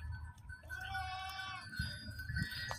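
Sirohi goats on a goat farm give a faint, wavering bleat over rustling farmyard background noise, with a few dull low knocks near the end.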